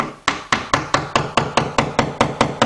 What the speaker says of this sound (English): I'm going to take my hammer, just tap it.